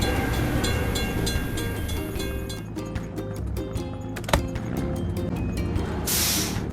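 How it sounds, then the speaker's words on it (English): A train passes a closed crossing gate in a kids' toy vehicle game, with a steady rolling rumble, tonal hum and rhythmic clatter, a sharp clank midway and a brief hiss at the end. "We have to wait for the train to pass."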